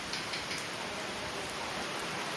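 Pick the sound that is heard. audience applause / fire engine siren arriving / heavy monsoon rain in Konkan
heavy monsoon rain in Konkan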